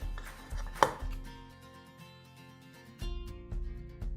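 Knife chopping chives inside a bowl for an omelette, close and fairly quiet, with a few distinct taps early, a pause, then a renewed run of steady chops.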